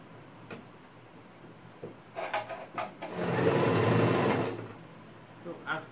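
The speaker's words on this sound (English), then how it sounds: "So I'll just place it on my machine like this." A domestic sewing machine stitches the seams of leggings, starting with a few light ticks and clicks before a steady motor whir runs for about a second and a half, then stops.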